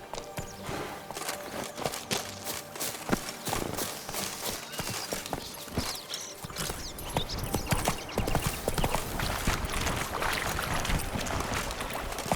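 A horse gallops in The Witcher 3 with a rapid, continuous clip-clop of hooves that stays loud and steady throughout, layered with game ambience and a rushing wind-like wash.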